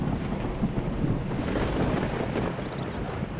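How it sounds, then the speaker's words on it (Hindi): Heavy rain pours in a dense, continuous roar with low rumbling thunder underneath, loud and close throughout, with no voices. "बारिश तेजी से शुरू हो चुकी थी।"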